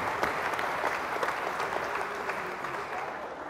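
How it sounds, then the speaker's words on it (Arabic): Audience applause at a Moroccan student event, steady dense clapping filling the whole stretch, moderately loud with a faint voice or two underneath. "اللي كان ادبي ولا فوالا صفقوا معنا الادباء"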